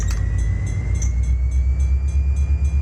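Freight train cars roll in the Run8 train simulator during diesel switching moves, a steady low rumble with rhythmic wheel clicks over rail joints and a faint high whine, no one speaking.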